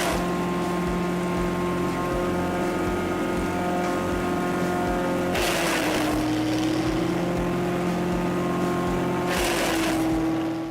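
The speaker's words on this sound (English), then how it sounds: "With a powerful motor delivering up to 174 horsepower, the Vermeer 1600A chipper can handle large volumes of wood materials with ease." Vermeer 1600A wood chipper with a 174-horsepower motor running steadily and loud, a constant droning engine hum broken by two surging bursts of grinding, rushing noise as material is fed through.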